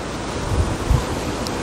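Wind blowing outdoors, a steady broadband roar buffeting the microphone with a couple of low thumping gusts, close and continuous with no voices.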